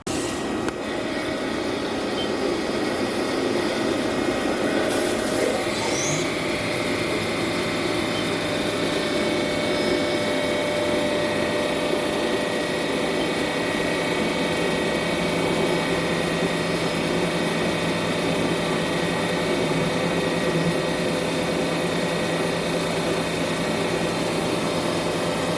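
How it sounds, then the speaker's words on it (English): CNC machine boring holes with through-spindle coolant in a machining shop, a steady loud whine and hiss of spindle and coolant running continuously for the whole stretch with no talk. "We're gonna come in here and bore those holes with through spindle coolant"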